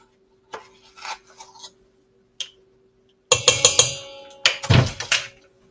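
Cocoa powder and baking soda being stirred together in a bowl for peanut butter swirl brownies, heard as a few soft scrapes followed by a run of brisk, close clinks and taps of utensil against the bowl.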